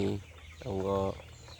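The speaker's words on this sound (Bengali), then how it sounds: "মুরগি খাবার খাচ্ছে মুরগি খাবার খাচ্ছে" Chickens eating feed on a farm give a few close, throaty clucks, a short burst followed by a longer drawn-out cluck.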